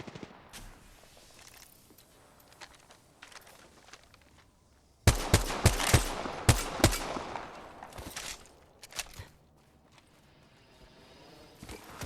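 Gunfire in the video game Apex Legends: after a quieter stretch of scattered shots, a loud burst of rapid automatic fire and impacts erupts, then thins into isolated shots and fades away.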